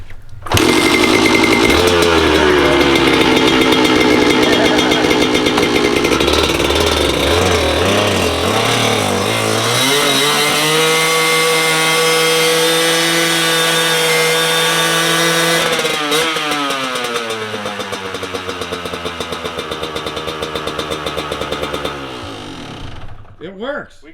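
A Kawasaki KDX dirt bike engine fires up and keeps running in a garage, a loud raspy two-stroke drone that rises and falls with the throttle throughout, with people talking and cheering over it.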